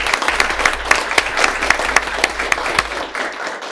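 A room of people applauds a school principal and her team at a public meeting, steady, dense clapping at close range that holds for a few seconds before tapering off.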